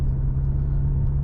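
A 2008 Chevrolet Corvette engine drones low and steady from inside the cabin while driving, a constant, even rumble with no clear revving.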